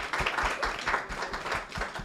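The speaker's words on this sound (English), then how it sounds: "Give yourselves a round of applause" Audience applause from residents at a village community dinner and discussion with local politicians, a steady wash of clapping sustained through the whole moment.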